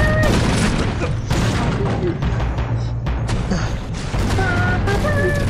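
Several sharp, booming blasts from model cannons fire in quick succession at a model dreadnought warship, loud and close, with voices heard faintly between the shots.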